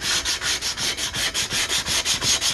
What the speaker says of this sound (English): aluminum is a very dirty metal when you start sanding it